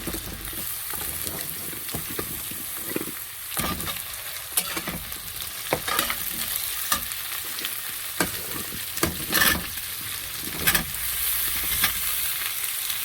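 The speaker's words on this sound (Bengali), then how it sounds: "এবার এই মান কচু আর আলু দিয়ে দিচ্ছি, এটার সাথে ভেজে নেব ভালো করে।" Taro (man kochu) and potato pieces frying with onion in a pan, a continuous sizzle punctuated by repeated sharp spatula scrapes and knocks, close and without speech.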